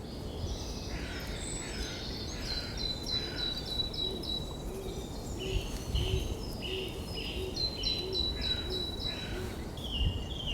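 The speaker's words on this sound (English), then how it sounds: "the bird we're hearing now behind me is a song thrush. Loud, throaty song with repeats the phrases." A song thrush sings in a dawn chorus, loud repeated phrases ringing out at a moderate distance over a steady hiss of other birds and insects, with no talk.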